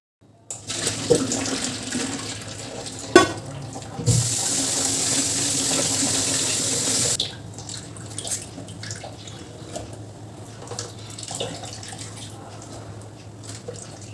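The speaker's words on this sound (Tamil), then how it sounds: "இதை ஒரு டைம் பச்சை தண்ணியில் வாஷ் பண்ணிவிட்டு தண்ணி எல்லாம் பிழிஞ்சு எடுத்துடலாம்" Tap water runs steadily into a sink for a few seconds, splashing over soya chunks being rinsed, then stops, leaving quieter handling and dripping.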